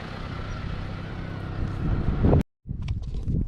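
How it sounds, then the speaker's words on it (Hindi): A vehicle arrives in the early evening near people sitting outdoors, its low engine rumble building close by under wind buffeting the microphone, then a brief cut to near-silence before the rumble and clatter resume. "ये गाड़ी आ गई भाई"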